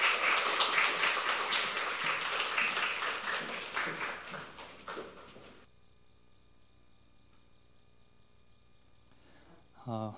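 A church audience claps warmly to welcome a pastor, a dense burst of applause that fades out after about five seconds, leaving a quiet room hum.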